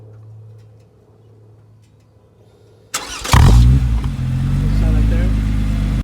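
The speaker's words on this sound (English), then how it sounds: "start up the motor to see what the aftermarket exhaust sound" A 2014 Lotus Evora S fitted with a Larini aftermarket exhaust fires up after a quiet stretch of low idle and talk, then roars loudly with a sharp rev before settling into a deep, steady, rumbling idle close by.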